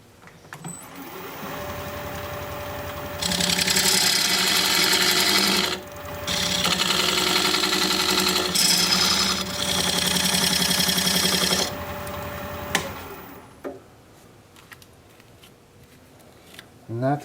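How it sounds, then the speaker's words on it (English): A wood lathe spins a Pfitzer juniper blank while a diamond point tool squares the sides of a tenon, giving bursts of loud scraping and cutting over the motor hum, separated by brief pauses before the machine winds down. "I want to use this diamond point tool to square up the sides of the tenon"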